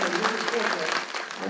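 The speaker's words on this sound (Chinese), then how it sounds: "让现场掌声响起" An audience claps steadily at an executive's inauguration ceremony in a hospital chapel, with a voice speaking over the applause.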